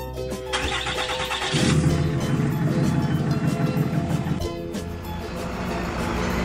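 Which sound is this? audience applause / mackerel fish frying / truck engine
truck engine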